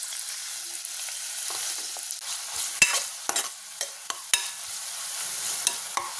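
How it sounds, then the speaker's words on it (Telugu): Chopped onions and curry leaves sizzle steadily in hot oil with cumin seeds in a pan, a continuous frying hiss broken by several sharp clicks and scrapes of stirring, close and alone with no talking. "ఆనియన్ కొద్ది కలర్ మారేదాకా ఫ్రై చేసుకుందామండి."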